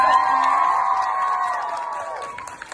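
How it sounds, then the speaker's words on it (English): A crowd at a book event for a children's book greets the guests with sustained cheering and whoops. Faint clapping runs underneath, and the noise eases off gradually. "Can we get a round of applause?"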